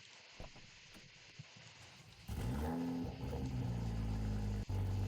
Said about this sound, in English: Let me show you guys the startup of the car.